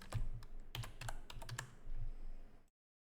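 Typing a folder name on a computer keyboard, a close, steady run of crisp key clicks with a few louder strikes, ending abruptly in silence.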